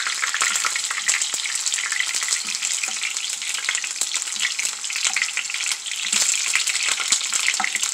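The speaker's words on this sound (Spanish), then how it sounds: "vamos a poner la cebolla y los ajos. Vamos a pasarlos aquí por el aceite." Onion and garlic frying in oil for mole verde, a loud, dense, continuous sizzle with crackling and occasional stirring clicks, close and steady throughout.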